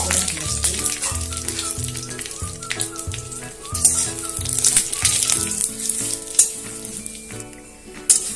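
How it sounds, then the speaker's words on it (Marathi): Bay leaves frying in about a tablespoon of hot oil, a steady crackling sizzle that runs the whole time beneath louder background music. "आता थोड्या तेलावरती तमालपत्र भाजून घेऊया"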